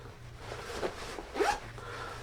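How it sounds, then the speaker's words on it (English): A vent zipper on Tru-Spec Xpedition pants is pulled in two short, close rasping strokes, a quiet zip heard alone against low background hum. "This vent pocket, I guess, flap. The vent zipper there."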